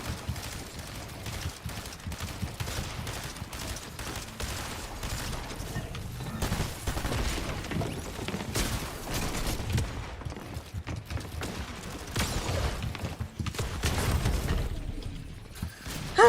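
Fortnite gunfire crackles through a busy match, with repeated shotgun blasts and other shots layered over game sounds at a moderate level, and no voices heard.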